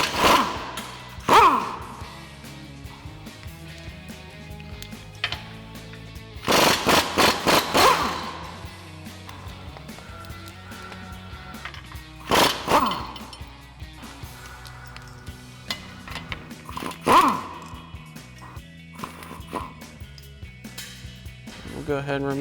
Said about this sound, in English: So we use our 19mm socket on our impact.